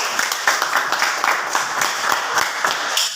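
A class of students applauding during a lesson on network cable crimping, a brief burst of many hands clapping close by with a dense, even rhythm and no talking over it.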